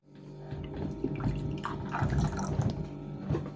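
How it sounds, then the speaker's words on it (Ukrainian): Warm, nearly boiling water poured into a container to dissolve a yogurt starter culture in a kitchen, a steady close liquid splashing and trickling that runs the whole time with no talk. "Я наливаю водички, можна менше."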